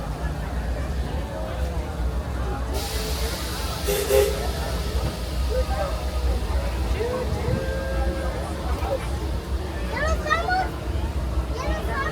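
The Disneyland Railroad train rumbles steadily along the tracks around Disneyland Park with wheel squeals and clatter, while people chatter nearby and a brief whistle-like toot sounds.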